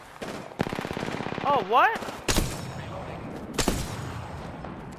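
Automatic weapons fire in rapid bursts in the shooter game Apex Legends, with a few sharp, loud single cracks standing out. Players talk briefly over the shooting.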